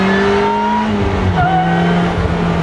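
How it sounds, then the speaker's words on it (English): A Rezvani Beast Speedster accelerates hard, its supercharged engine loud and close, a rising whine and growl climbing and shifting pitch over a few seconds. "the supercharger sounds awesome"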